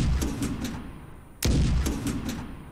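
A tank's main gun fires once in a city-building video game, a sharp, loud blast with a rumbling tail that stands out over a busy, rhythmic game backdrop.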